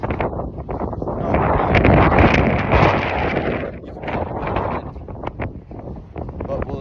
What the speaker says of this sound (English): There's some pretty big gusts